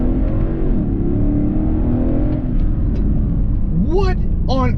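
A 2022 Lexus LC500 convertible's V8 rumbles steadily, then blips upward in two sharp rising revs on downshifts near the end, while a voice exclaims over it.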